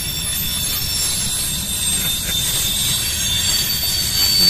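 A heavy double freight train rumbles steadily past with high metallic wheel squeal ringing over a low continuous roar, close and sustained throughout.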